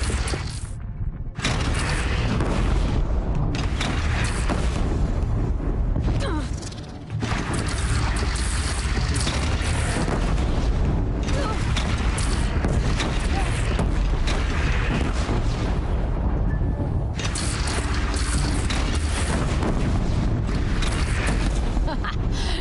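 Cannon fire during a bandit clan battle in Horizon Zero Dawn, with loud repeated booms and clanking mechanisms amid dense, continuous combat noise and voices throughout.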